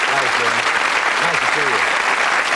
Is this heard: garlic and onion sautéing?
no